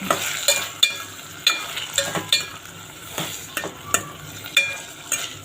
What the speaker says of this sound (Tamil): தக்காளி கொஞ்சம் வதங்கணும்